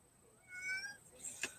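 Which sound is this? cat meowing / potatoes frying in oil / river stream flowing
cat meowing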